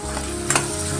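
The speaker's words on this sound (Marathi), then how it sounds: "कढीपत्ता चांगलं परतून घ्यायचंय।" Curry leaves and asafoetida frying in hot oil in a pan for a sprouted moth bean curry give a steady close sizzle, with a brief louder crackling burst midway and stirring throughout.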